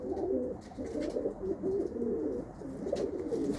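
Ali breed pigeons, the original strain famous from Sialkot, coo continuously and close by in low, rolling, overlapping calls, with no one speaking.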